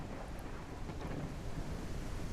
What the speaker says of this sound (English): you can see how this environment completely changes as soon as it starts pouring rain